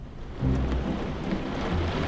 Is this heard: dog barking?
no